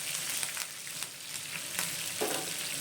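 Ingredients roast in a pan as lemon rice is prepared, giving a soft, continuous sizzle with faint crackles and a few light stirring scrapes, with no one talking.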